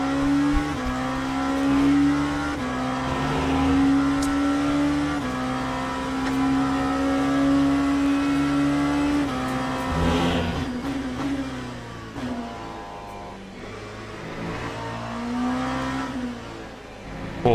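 Several race cars in Le Mans Ultimate drone past in a tight pack, steady engine notes rising and shifting over many seconds with a loud whooshing pass near the middle, continuous and fairly close.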